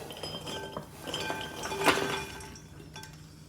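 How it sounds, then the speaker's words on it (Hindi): Roasted dry fruits are tipped from a pan into a separate pot while making panjiri, giving several metallic clinks and scrapes with one sharp clatter near the middle, fairly close and with no voices. "तो अब इसको मैं अलग से बर्तन में जो है वो निकाल लेती हूँ।"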